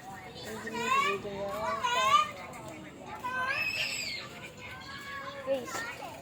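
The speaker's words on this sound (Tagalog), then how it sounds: "Maingay yung mga bata." Children shout, squeal and chatter noisily while playing outdoors, with several high excited voices overlapping in bursts close by.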